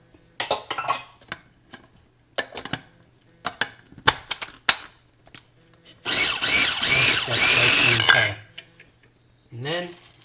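A food processor pulses spring onion pesto in short bursts, then runs steadily for about two seconds, loud and close. Clatters and knocks from the lid and kitchen tools come before it, with no talking.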